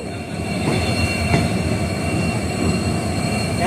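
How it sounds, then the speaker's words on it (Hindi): A new passenger train pulls into Neem Ka Thana railway station toward Khatushyamji, its loud, steady rumble of wheels on rail filling the space with faint squeals and metallic clicks, no voices. "तो दोस्तों अपनी ट्रेन आ चुकी है नीम का थाना रेलवे स्टेशन पे।"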